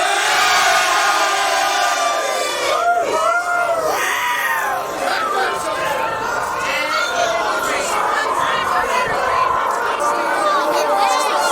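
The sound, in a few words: hurling team cheering together on count of three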